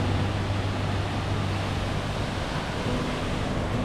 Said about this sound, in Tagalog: Rinig mo na yung agos ng water.